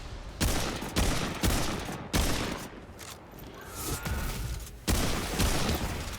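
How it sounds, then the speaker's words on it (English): Repeated bursts of gunfire in the video game Remnant 2, heavy volleys crackling at irregular intervals with booming impacts, loud and continuous over several seconds. "hearing all the gunfire"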